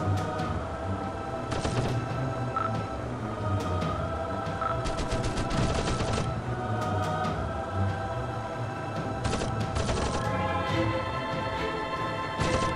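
A6M2 Zero 20mm aircraft cannons fire in a dogfight against a Hellcat, rapid bursts of gunfire over a constant droning engine roar, with several distinct volleys.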